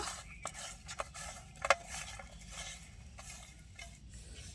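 Raw fish being hand-mixed with salt and turmeric powder in a kitchen: faint, soft squishing and rubbing with a few brief clinks of a bowl, quiet throughout.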